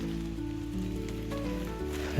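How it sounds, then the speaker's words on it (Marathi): Steady rain falls near a river during a fishing outing at a dam, a continuous even hiss of drops heard alone at moderate level. "आता मे महिन्याची सुट्टी तो जूनमध्ये घेईल, असा पाऊस चालू झालेला आहे"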